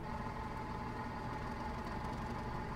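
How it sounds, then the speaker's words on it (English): A diesel locomotive idles in Train Simulator 2017 on a Norfolk farming route, a steady low engine rumble and vibration holding at constant level throughout, with no voices. "I'm hearing the engine do things, so I must be ready to go."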